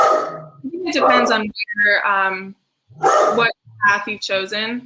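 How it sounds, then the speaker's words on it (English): A pet dog yips and barks in short bursts at home, loud and close, while a person keeps talking over it. "Oh God, sorry about my dog."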